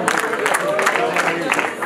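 A crowd of wedding guests in Rwanda claps in a brief, dense patter, with speech and crowd voices running through the applause.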